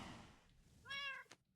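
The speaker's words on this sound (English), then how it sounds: "Here's an ocelot and a cat." A cat meows once in the Minecraft video game, a single short, clear mew in the middle of an otherwise quiet moment, followed by a faint soft knock.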